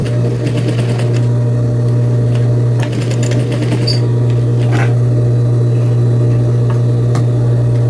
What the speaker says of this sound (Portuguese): Agora eu vou puxar aqui e vou costurar até onde eu puder.